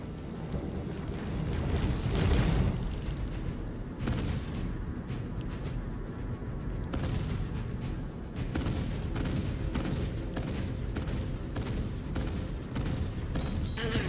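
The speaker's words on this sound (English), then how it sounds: "In this test I'm using ballistic cannons for a change, which is a good option." Ballistic cannons fire in the space combat game Star Citizen, a dense, continuous barrage of booming shots with rumbling impacts, loud and sustained across the whole stretch with no talk.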